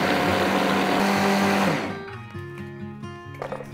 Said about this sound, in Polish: Teraz musimy to zmiksować. Do tego nam posłuży taki prosty malakser.